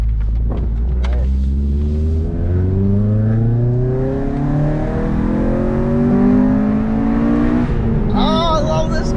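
A Honda engine revs hard and climbs into VTEC, its rising harmonic whine sweeping steadily upward in pitch, loud and close from inside the car, with brief talk near the end.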